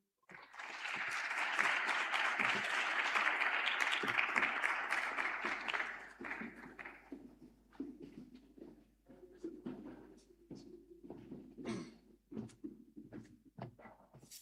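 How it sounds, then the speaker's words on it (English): Audience applause following a keynote address at a youth summit, a dense sustained clapping burst for about six seconds that then fades into scattered claps and room noise. "A hand of applause again."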